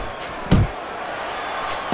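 Punches landing in the Fight Night Champions boxing video game, one heavy thudding impact near the start and a lighter hit at the end over a constant crowd bed, with commentary in the background.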